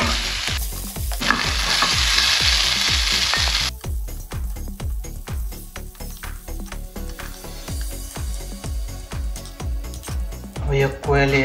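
Quail eggs frying in a pan with tomato, a continuous close sizzle broken by regular scraping stirs, with a louder hissing burst early on and a quieter stretch later.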